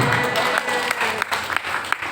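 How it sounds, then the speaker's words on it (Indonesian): A small group claps together briefly, a dense patter of applause filling the room, close and fairly loud. "tepuk tangan"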